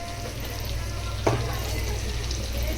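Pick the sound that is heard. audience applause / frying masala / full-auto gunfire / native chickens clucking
frying masala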